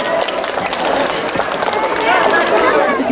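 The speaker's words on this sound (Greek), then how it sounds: "Ένα χειροκρότημα στον Γιώργο." A crowd claps for Giorgos at an outdoor Christmas treasure hunt in a town square, loud continuous applause mixed with chatter and cheering voices.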